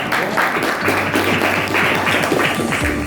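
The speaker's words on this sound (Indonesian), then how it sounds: "Kita beri tepuk tangan dulu." Classroom applause from students and teachers after a group presentation on remote sensing in a geography lesson, a steady dense patter of many hands lasting throughout, fairly loud and close, with a low hum underneath.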